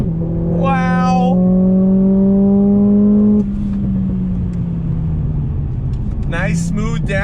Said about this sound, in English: we're gonna accelerate from a dead stop here. Hold it down, hold it down. Here we go, yeah! Launch control is awesome in this thing.